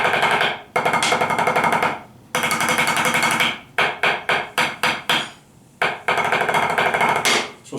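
Repeated sharp strikes on a drum practice pad fitted with Mylar and Kevlar stickers, played unsupported by other pads for a hollow tone; dense rapid bursts and rolls alternate with short gaps, close and loud with no talking.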